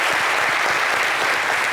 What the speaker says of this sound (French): Ça doit s'applaudir.